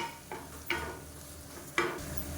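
Greens for a chutney sauté in a pan with a soft, quiet sizzle, broken by a few brief scraping stirs of a spoon against the pan.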